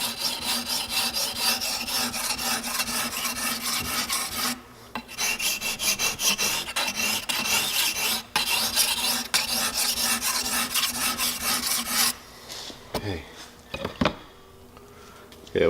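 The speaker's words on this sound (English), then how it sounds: "we'll keep on going now with the 600 grit and get that edge nice and sharp" Okatsune pruning shears sharpened on a 600 grit whetstone, a loud close rhythmic rasping scrape of steel on stone for about twelve seconds, then a few separate strokes before it stops.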